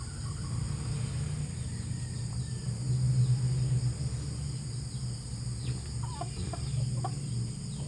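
Golden Boy hen clucking softly in a backyard coop, a few low clucks over a steady background of chirping insects.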